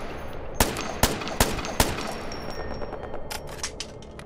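Gunfire in the video game Ghost Recon: Future Soldier rings out as four sharp, loud single shots, followed by a quicker run of fainter shots, with no talk over it.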